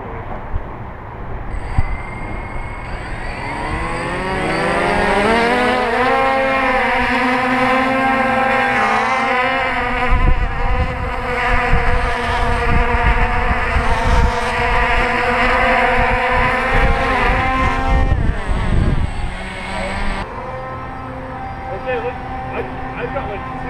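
A small quadcopter drone buzzes steadily with a rising, harmonic propeller whine close by, sustained for about fifteen seconds before cutting out, with people talking over it.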